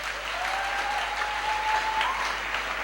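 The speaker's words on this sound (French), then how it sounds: "Acclame pour Jésus-Christ." A church congregation claps together in sustained applause, a dense continuous patter of many hands with a faint sustained tone running through it.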